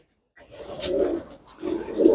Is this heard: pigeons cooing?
yes